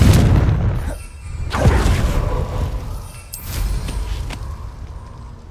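Confringo blasting spell explosions in Hogwarts Legacy, several heavy booms with sharp cracking onsets spaced a second or so apart, loud and close, each decaying into a low rumble.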